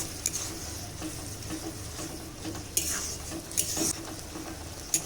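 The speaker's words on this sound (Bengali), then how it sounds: "টক দই দিয়ে খুব ভালো করে নেড়ে নেব" Masala stirred with sour yogurt in a pan for bata fish doi korma, a soft sizzle under repeated spoon scrapes and a few sharp clinks against the pan, close by.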